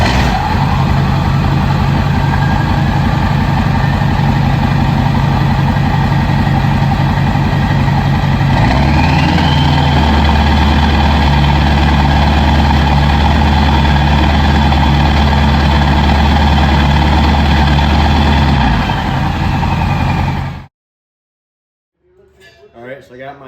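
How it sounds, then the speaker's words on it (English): Car engine fitted with a chrome 5-inch elbow exhaust tip, idling steadily and loudly up close, then rising to a higher held idle for about ten seconds before cutting off abruptly into near silence. "I'll give you guys a normal idle and then a high idle with this tip"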